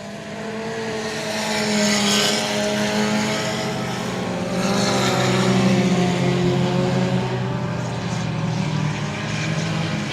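Dirt track race cars roar around I-37 Speedway, including the 719 USRA Tuner, in a sustained loud engine drone that swells and fades slightly as the cars pass.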